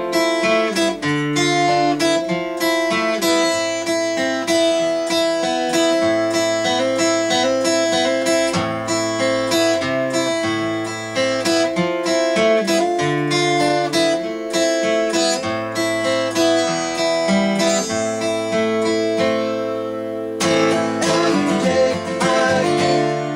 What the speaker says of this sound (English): This is July's song and I've got a song that's more of a romantic sort of feel.